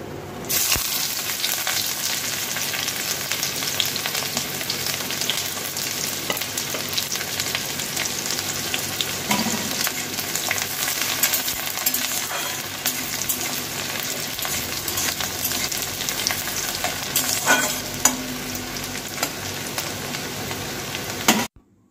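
Onion and garlic fry in hot oil with bay leaf, dried chili and whole cumin while a mixed lentil dal is being made, giving a steady, dense sizzle that runs unbroken for about twenty seconds, with faint stirring scrapes and no voices.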